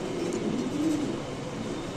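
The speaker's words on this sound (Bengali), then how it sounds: "আমরা একটু নিচে ছেড়ে কবুতরগুলো দেখাচ্ছি" Modena pigeons let loose on the floor, with low, throaty cooing over a steady background murmur for a couple of seconds, close by.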